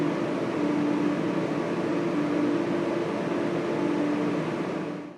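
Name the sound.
humming of GPUs, fans and pumps in AI cluster data hall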